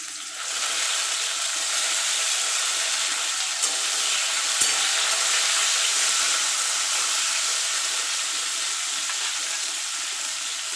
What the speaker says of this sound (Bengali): এবার আমি উচ্ছেগুলো ভেজে নেব।